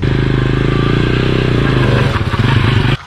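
A motorcycle engine runs steadily and loudly up close, with a rough pulsing note and some clattering, before cutting off abruptly at the end.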